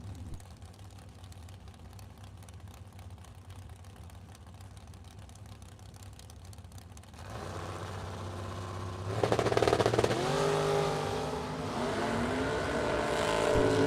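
Drag race cars, a Corvette among them, at a Super Pro bracket drag strip: a steady engine drone builds into loud, rising revs as the cars launch and pull away, with mechanical noise layered throughout.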